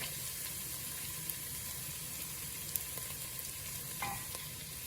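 Hing, masala and turmeric sizzle in a hot pan while being stirred for a lentil dhal, giving a steady, close frying hiss with a few faint clicks and scrapes.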